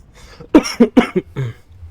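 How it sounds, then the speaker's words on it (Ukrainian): A short burst of several dry coughs in quick succession, close and loud, followed by a softer rasping breath. "кашляю, блін, коли я вже виздоровію"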